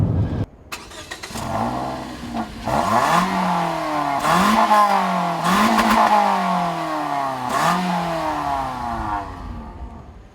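A 2014 Toyota Corolla engine revs repeatedly while driving, rising through several climbing pitch sweeps that drop back between gear changes, loud and close inside the cabin with a slightly strained tone.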